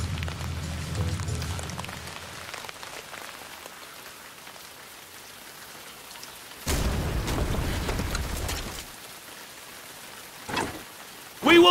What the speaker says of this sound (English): Rain again, my liege.